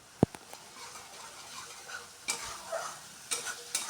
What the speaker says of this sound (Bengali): গুঁড়া মশলাটা দিয়ে কিছুক্ষণ কষাতে হবে